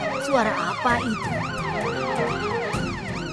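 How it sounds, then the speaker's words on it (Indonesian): A wailing police siren rises and falls in a fast, steady cycle, loud and close, with a low rumble of traffic beneath it. "Kedengarannya seperti sirene polisi."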